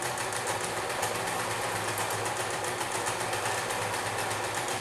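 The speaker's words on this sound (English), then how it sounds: "Now I can stitch down, making sure that my elastic's not going to get caught in the seam." A sewing machine stitches elastic onto a cotton mask with a nose piece, its rapid, even rattle running continuously and close for about five seconds with no talk.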